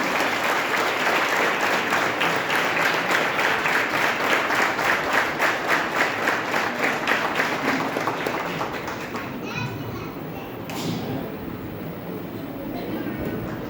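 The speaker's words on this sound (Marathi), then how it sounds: "जोरात टाळ्या वाजवा" A crowd at a girls' camp ceremony at Sajjangad claps loudly and steadily for about nine seconds, then the clapping thins into a murmur of children's voices.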